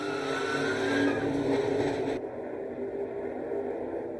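NASCAR race cars crash and slide across the track amid carnage near turn one, a loud broadband roar of engines and scraping with a rising whine that cuts off abruptly halfway, leaving a duller rumble.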